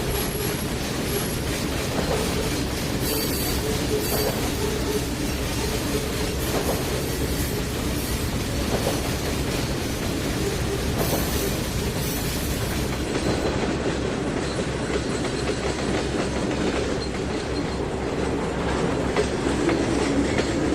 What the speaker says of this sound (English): So we got a little bit more to cut on this incoming train